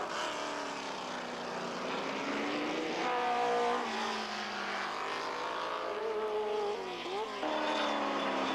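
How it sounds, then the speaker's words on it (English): Can-Am race cars roar around Mosport Park in a 1985 race, a steady loud engine blare with shifting pitch as cars pass near and away, with no talk over it. "Kroll is really breathing the leader's exhaust fumes"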